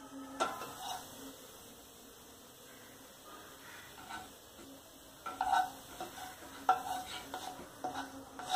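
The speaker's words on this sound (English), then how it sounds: "Saute for a few seconds." Cumin seeds sauté in a pan for Indian-style fried rice, a soft steady sizzle broken by occasional clinks and scrapes of a stirring spoon against the pan, close and fairly quiet.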